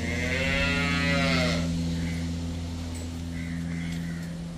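A Jersey cow at a dairy farm gives a low, sustained moo that starts strong and fades, over a steady droning hum in the background.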